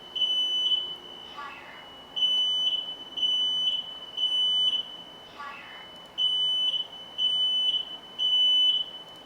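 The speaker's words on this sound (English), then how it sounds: "when I cook bacon, I always tend to set that alarm off" A home smoke alarm set off by cooking bacon in the kitchen, sounding as a loud, repeated electronic beeping in regular bursts, with brief voices heard faintly in between.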